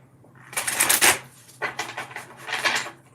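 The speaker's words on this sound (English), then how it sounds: "one more shuffle here" Tarot cards being shuffled up close in three quick riffling bursts separated by short pauses, crisp and papery, with no talk.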